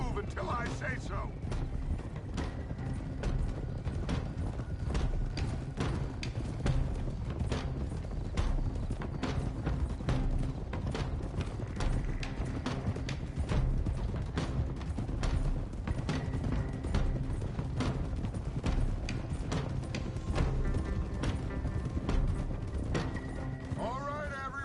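Horses ridden at pace in the video game Red Dead Redemption 2, with steady rapid hoof clip-clops and occasional whinnies over continuous movement, close and prominent throughout, with someone speaking over the riding.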